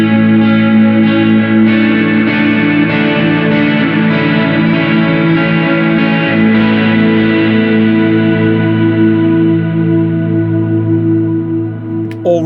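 A coil-split 1972 Telecaster run through stacked effects makes a dense shoegaze ambient wall of distorted, reverberant, chorused sustain that swells continuously and slowly fades near the end, loud and close.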